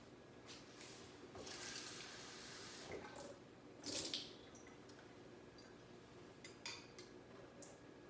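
Tap water running into a container while making royal icing in a kitchen, a steady splashing flow with a louder gush near the middle and a few drips toward the end, with no talking.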